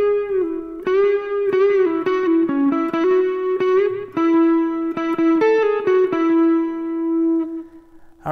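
An electric guitar plays the opening two bars of a solo, with bends and sustained single notes, slightly overdriven, alone and up close.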